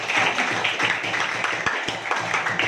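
Classmates clap in a classroom to congratulate a student, a steady, dense patter of many hands filling the room at moderate loudness with no talking over it.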